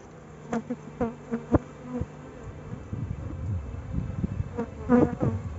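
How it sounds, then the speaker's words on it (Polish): Agitated honeybees buzz around a hive during an inspection, a steady drone with sharp bursts as individual bees fly close past, plus a few dull knocks in the first two seconds. "Trochę pszczoły się irytują."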